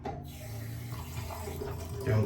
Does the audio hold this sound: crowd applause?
no